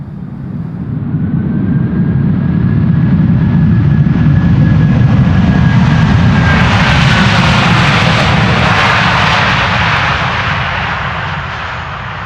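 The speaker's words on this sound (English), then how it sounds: "That's at least one Delta pilot who has found the lever of the reverse thrust." A Delta airliner lands and applies engine reverse thrust, producing a loud, sustained jet roar that builds, holds for about ten seconds with a thin whine over it, and then slowly eases off. No voices are heard.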